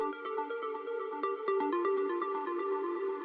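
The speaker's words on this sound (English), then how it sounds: "In this track, I have an ARP melody which sounds like this." A synth arpeggio melody with ping-pong delay plays alone at moderate volume, a steady run of plucky repeating notes with echoes trailing each one.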